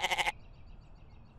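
A cartoon goat without horns gives one short, wavering bleat up close, followed by near silence.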